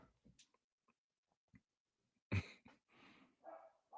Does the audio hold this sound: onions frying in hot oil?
no